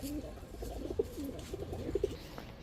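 Pigeons kept for sale, including Pakistani Teddy, Military and racer breeds, coo softly in low repeated throaty phrases, several overlapping calls close by at low volume.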